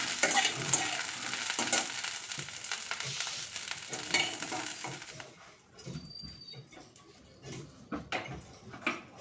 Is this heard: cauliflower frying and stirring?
yes